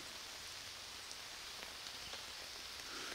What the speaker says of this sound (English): all we can hear is raindrops hitting the trees